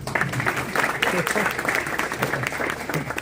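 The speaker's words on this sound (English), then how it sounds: "Please clap for yourself." Audience at a hackathon clapping together, a dense, steady patter of many hands filling the room at close range for the whole stretch.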